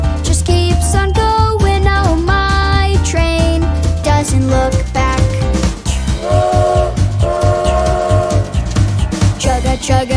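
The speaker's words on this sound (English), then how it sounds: "Fast goes my little train at last, last, last." A cartoon toy-train effect in a children's nursery rhyme song: whistle-like toots ride over a loud, bouncy backing of music that runs without pause.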